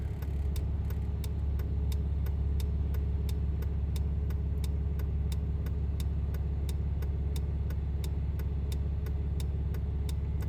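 A CASE 9240 combine harvester driving down the road, a loud low engine drone running steadily throughout with a regular ticking click repeating about twice per second above it.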